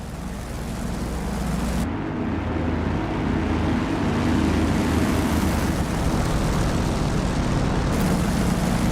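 An F4U Corsair's propeller engine drones steadily at cruise power in level flight, a loud continuous rumble with a low throbbing hum, heard close and alone for the whole stretch.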